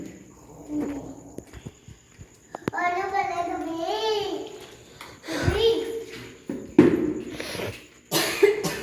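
Several sharp coughs break through a stretch of talking, with a voice and some household clatter nearby.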